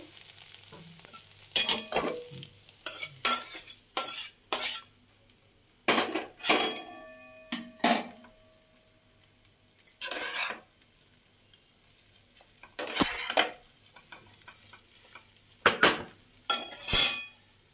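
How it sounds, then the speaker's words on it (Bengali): Fried egg being stirred into chowmein in a pan, with repeated bursts of metal spatula scraping and clanking against the pan over a quiet sizzle, close and rhythmic with pauses, no talk. "ডিমটা এর মধ্যে মিশিয়ে নেব।"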